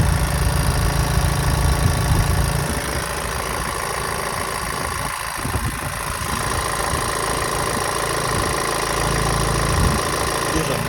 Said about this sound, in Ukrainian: Моторчик працює ідеально, не трусить, рівнесенько.